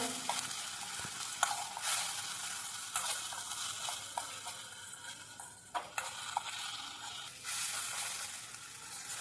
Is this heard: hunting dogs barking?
no